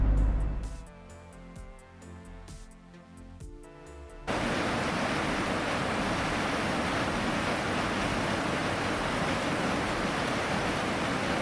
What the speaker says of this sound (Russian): Водопад называется Султан